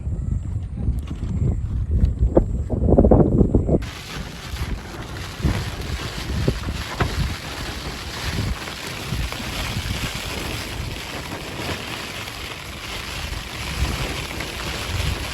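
Strong wind blowing across Vihar Lake, battering the microphone with a loud, continuous rushing buffet after a lower rumble at the start.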